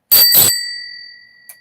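A bright notification bell ding rings out once, loud and clear, then rings on in a fading shimmer, with a faint second tap near the end.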